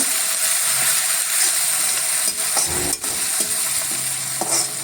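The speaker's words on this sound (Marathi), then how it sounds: "याच्यामध्ये आपण थोडासा सोया सॉस टाकणार आहोत मिक्स करून घेऊया" Veg Manchurian sizzles in a hot pan with soy sauce as it is stirred, a continuous bright frying hiss with a few scraping knocks of the spoon against the pan, near and steady.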